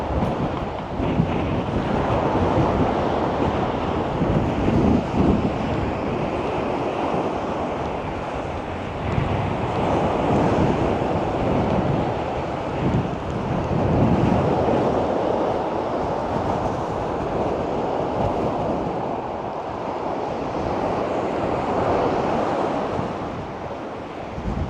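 Strong wind roars across a microphone at the seaside in Bodrum during a storm, with surf washing steadily beneath it, a loud continuous rush with no talking.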